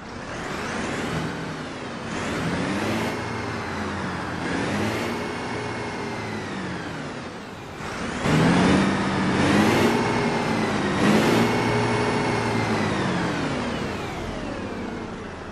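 A MAN NL202 bus engine in the OMSI simulator runs loud and steady, its diesel note rising and falling through repeated revs and gear changes, with a heavier surge midway.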